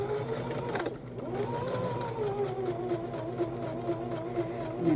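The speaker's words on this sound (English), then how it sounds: "This is our way of tying a knot on a sewing machine." A sewing machine backstitching to tie off a seam on a fabric pouch runs in a fast, even mechanical whir, briefly pausing then resuming its steady stitching hum.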